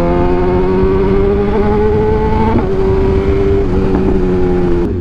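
A BMW supernaked superbike engine revs loudly and close, holding a steady high-pitched drone that rises slightly and then dips, with no talk over it.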